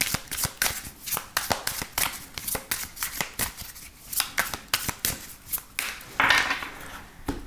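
Oracle deck being shuffled during a tarot-style reading, with a steady run of quick crisp card flutters and riffles, close and fairly loud, and a brief swelling shuffle near the end.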